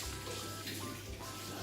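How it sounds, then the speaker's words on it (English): Hands rinsed under a running tap, a steady, soft stream of water pouring briefly into a sink. "Now, I'll just wash my hands just quickly."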